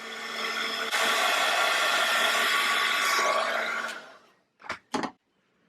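Hair dryer blowing on a mixed media paint project, a steady loud whir lasting about four seconds that then cuts off, followed by two short bursts.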